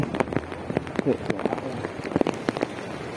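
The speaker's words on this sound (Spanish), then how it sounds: "Granizo." Hail patters and clatters on a hard surface during a storm in La Paz, Bolivia, in sharp, irregular hits, with faint voices in the background.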